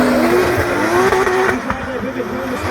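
Drift cars in a competition round, including a Nissan, scream past at full throttle with tires squealing loudly under continuous excited commentary.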